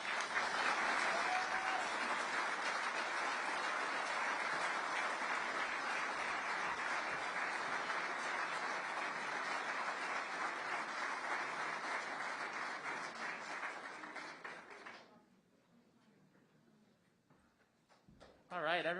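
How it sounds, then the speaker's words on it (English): A large audience at a political speaking event claps steadily and loudly for about fifteen seconds after a congressman's speech, then the applause fades out. "everyone give one more round of applause to Congressman Riggleman."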